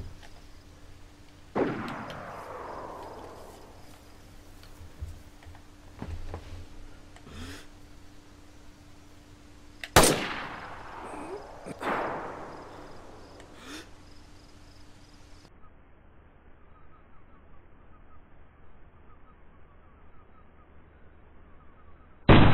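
LAR rifle shots ring out in DayZ on PS4, a few sharp cracks spread far apart with a cluster near the middle, each trailing off in a long echoing tail, surrounded by quiet ambience.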